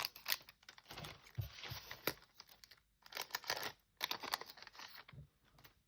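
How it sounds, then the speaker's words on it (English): Scissors cut open a foil Pokemon trading card pack with close, crisp crinkling and slicing in several bursts separated by short pauses. "So scissors for me is the way forward."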